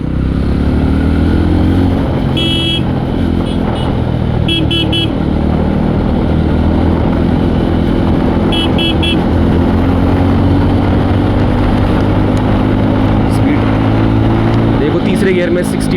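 Yezdi Roadster motorcycle accelerating at speed, its engine note rising steadily under loud, constant wind rush, with a few short horn toots heard close by.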